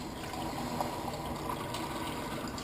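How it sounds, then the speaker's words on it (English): Water pours steadily into a cooking pot being filled for split pea soup, a continuous close rushing splash with an even level from start to end and no voices. "instead of the 16 cups of water, I'll put 14 in."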